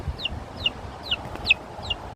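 A young chick gives five short, high peeping clucks at an even pace, close by, over a soft background hum.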